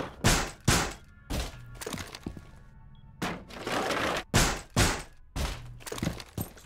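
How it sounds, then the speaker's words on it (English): Barricades being boarded up over bank windows in a tactical shooter video game, a series of about nine heavy wooden thunks and cracks in an uneven rhythm, loud and close, with no talking. "Board up all these windows if you can."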